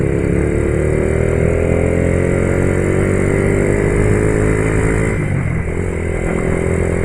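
A motorcycle engine with a problem in the cylinder head runs loudly and close by during a street celebration in Bandung, a steady droning hum that slowly rises in pitch, then dips briefly and drops.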